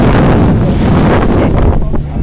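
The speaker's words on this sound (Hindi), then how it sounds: "पानी काफी उछल के आ रहा है भाई" A boat on a dolphin trip off Goa rides rough sea, and loud, constant wind buffets the microphone over a steady rush of water.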